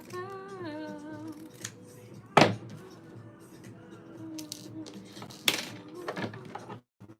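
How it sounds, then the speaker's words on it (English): Scissors trim fabric during a sewing project, with a couple of sharp snips standing out over a quiet background of indoor room sound and a few soft handling noises. "We gotta trim this down a bit."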